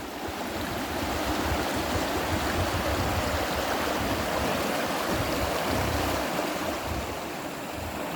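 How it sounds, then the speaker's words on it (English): Water rushes steadily through a gold-prospecting sluice box outdoors, a loud, continuous close-up splashing flow that swells slightly and fades near the end, with no voices. "there's the last sluice run of the day"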